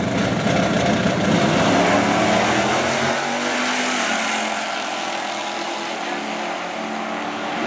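Race cars at Motion Raceway, including number 691 in a Dodge Dart and a Camaro, roar past loudly at close range, the engine pitch sweeping down as they pass, then settling into a steady distant drone.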